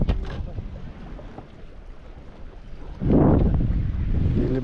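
Wind gusting over a lake on a walleye fishing outing, a steady low rumble of microphone buffeting that swells sharply loud partway through and stays strong, with faint voices in the background.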